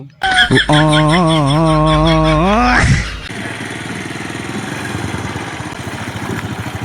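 Motorcycle engine running steadily and fairly loud through most of the stretch, with a low rumbling drone; a louder tonal sound dominates the first seconds before the engine continues alone.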